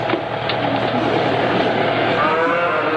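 A cow, probably a dairy cow, lows in a long continuous moo over steady background noise from a farm or livestock setting.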